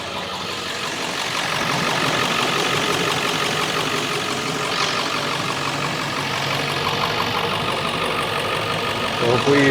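A vehicle engine idles steadily after an alternator repair, a continuous mid-range rumble with broadband noise running the whole time at fairly close range.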